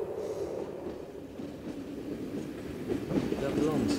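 A train rides along the rails with a rumbling, rattling carriage noise and some squealing near the end, heard from inside, with a voice talking over it.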